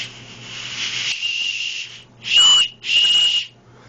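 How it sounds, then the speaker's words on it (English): A whistle on a Camillus survival knife sheath is blown in two short, shrill blasts after a softer breathy rubbing hiss, close and loud with a brief pause between blasts. "it's a whistle."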